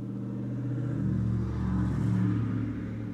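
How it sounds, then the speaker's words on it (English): A loud car engine in the video game Tales of Arise rumbles steadily and close, rising slightly as if revving midway, with no one talking. "that car's fucking loud"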